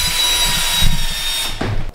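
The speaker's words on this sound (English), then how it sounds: "Drilling a shoe." A power drill bores a hole through the sole of a cycling shoe for midfoot cleat placement, a loud continuous whirring grind that shifts pitch partway through before stopping near the end.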